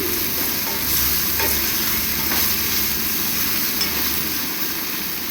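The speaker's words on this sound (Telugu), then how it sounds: "ఇలా చక్కగా కలిపేసుకోవాలండి ముక్కలన్నిటిని." Okra pieces seasoned with pink salt are stirred in a pan, a steady sizzle with scraping stir strokes close by and fairly loud, no voices.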